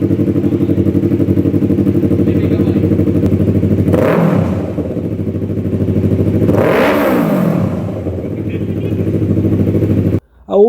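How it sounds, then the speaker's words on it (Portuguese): A BMW F450GS motorcycle with a 135-degree crank twin-cylinder engine revs loudly and close, with a steady idle broken by two sharp throttle blips that rise and fall, plus a brief clatter at the end. "temos um som próximo ao som de um motor monocilíndrico, com um pequeno grunhido em alta rotação"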